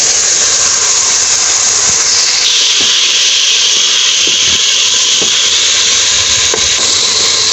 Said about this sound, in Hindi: जैसा आपने देखा अभी हम इसको अच्छे से भून रहे हैं।